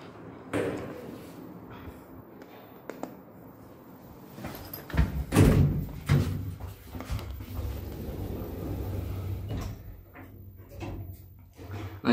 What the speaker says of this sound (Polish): Ale ciężkie drzwi.